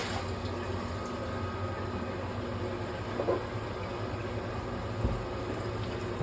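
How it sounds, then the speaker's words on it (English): Water sloshes and gurgles inside a large bottle as it is rinsed out, a low, continuous churning fill sound with a couple of small knocks, close and moderately loud. "I'm gonna rinse this thing out real quick so you can get a better view of what it looks like"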